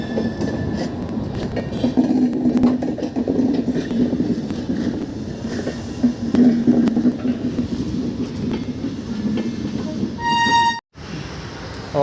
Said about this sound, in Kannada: ಇವಾಗ ಹೋಗ್ತಾ ಇದೆ ಇಂಜಿನೆಲ್ಲ.